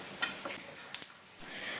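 About two tablespoons of grated coconut dry-roasting in a pan for pumpkin erissery: quiet, steady scraping and stirring with a faint sizzle and a couple of sharp utensil clinks against the pan.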